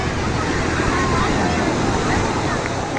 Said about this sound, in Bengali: দেখেন আজকের সাগরের উত্তাল ঢেউ,